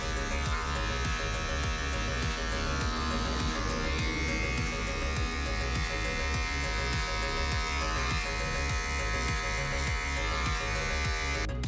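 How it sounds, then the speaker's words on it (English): Electric hair clippers buzz steadily and continuously up close, fading short hair during a high taper skin fade at a barber's, with an even, unbroken drone throughout. "I'll take my one clip, open it all the way up, and fade my way down to get this heavier line out."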